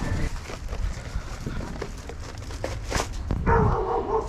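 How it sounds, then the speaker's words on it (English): A dog barks from inside a house at the front door during a DoorDash food delivery, heard briefly amid outdoor background noise. "the dog heard me anyway and started barking"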